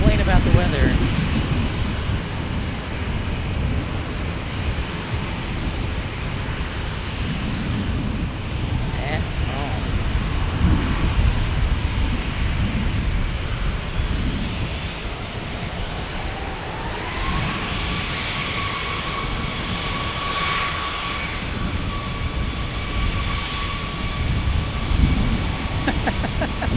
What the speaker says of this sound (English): we've got a Challenger, looks like landing here